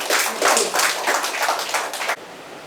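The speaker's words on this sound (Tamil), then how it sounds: "எழுத்தாளர் லதா அவர்களை ஒரு பெரிய கைத்தட்டலோட நம்ம அழைக்கலாம்" An audience claps to welcome the writer Latha to the stage at a book launch, a dense burst of many hands lasting about two seconds before it stops abruptly.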